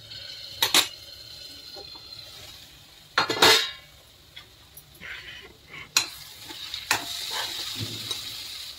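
Mixed vegetables cook in a pan over a low gas flame, a faint sizzle under scattered sharp clinks and scrapes of a utensil and a lid against the pan, with no talk.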